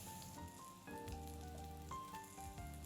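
Sliced onions sizzle and fry with whole spices (bay leaf, cinnamon stick, cardamom pods) in a pan, a steady close crackle under faint background music with occasional clinks.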